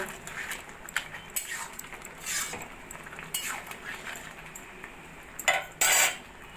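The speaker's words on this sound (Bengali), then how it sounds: "বড়িগুলো ভালো করে মিশিয়ে নেব" Fried lentil dumplings stirred into gourd curry in a pot, with repeated metal spoon scrapes and clinks against the vessel, irregular knocks and a couple of sharper taps near the end.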